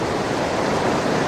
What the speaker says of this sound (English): small little mountain stream